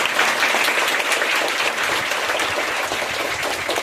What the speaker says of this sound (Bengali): জোরে করতালি দিয়ে আমরা অভিনন্দন করি